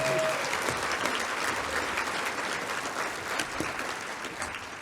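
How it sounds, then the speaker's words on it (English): Audience applause at a roast event fills the room, steady and dense from start to finish, and fades slightly toward the end. "Let's give all of our roasters a big round of applause."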